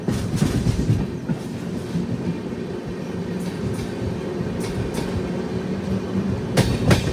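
A superfast express train rolls steadily through a station without stopping, giving a loud continuous rumble with rhythmic clickety-clack of wheels over rail joints and occasional sharper clanks, close and sustained throughout.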